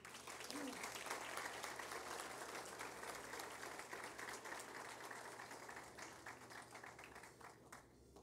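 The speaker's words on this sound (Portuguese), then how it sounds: "Aplausos." Sustained audience applause at a formal ceremonial session honoring a community figure, dense clapping from a large room that holds steady and then thins slightly toward the end, with some voices mixed in.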